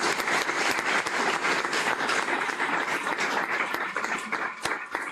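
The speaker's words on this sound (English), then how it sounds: "I think we can give them a round of applause as well." An audience at a research consortium opening session applauds PhD graduates, a sustained, fairly loud burst of many hands clapping that holds evenly throughout without speech.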